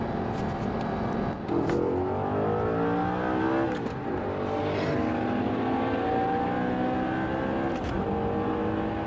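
A Bugatti Veyron and an Audi R8 accelerate hard side by side, a loud sustained engine roar climbing through gears with several shift dips, held close and steady throughout.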